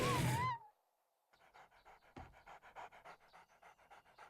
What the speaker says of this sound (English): I can actually hear him breathing